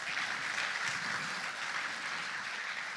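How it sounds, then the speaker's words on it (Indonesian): Audience applause before a multimedia poetry reading, a steady wash of clapping heard from a distance, moderately faint and continuous for a few seconds. "Tepuk tangannya dong."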